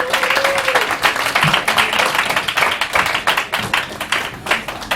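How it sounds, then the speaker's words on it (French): A small bar crowd at a Montreal slam poetry night claps for a poet, a dense patter of many hands that holds steady and then thins a little, with a brief whistle near the start. "Une bonne main d'applaudissements pour Joanne Roussy"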